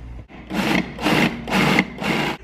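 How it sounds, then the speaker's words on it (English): A blender whirs through a thick quinoa, beet and sausage mixture with Worcestershire sauce in four loud, close pulses separated by brief pauses. "Now we're ready to blend it up."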